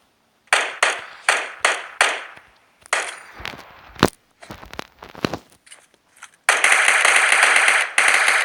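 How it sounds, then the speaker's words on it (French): Stun grenades and gunfire in a video game: a run of sharp, evenly spaced bangs, then scattered irregular cracks and shots, ending in a loud sustained hissing ring from a grenade blast. "C'est pas mal les grenades étourdissantes, j'en ai lancé 2 sans faire exprès, mais c'est pratique."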